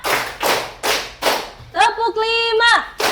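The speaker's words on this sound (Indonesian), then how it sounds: "Tepuk tangan dulu dong buat semuanya." Students clapping in a classroom, four loud, evenly spaced group claps, then a voice talks and one more clap lands at the end.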